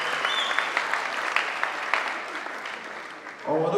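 Audience applause at a free comedy supper show, a dense steady patter of many hands clapping at moderate level for a few seconds before fading slightly, with a sudden louder burst of noise near the end.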